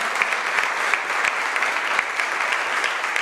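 A church congregation applauds during a sermon, a steady, full wash of clapping from many hands that stays even and continuous throughout, with no voices heard above it.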